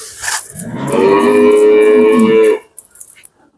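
A single long, loud dairy cow moo close by at a cattle market, lasting over a second, followed by brief faint rustling.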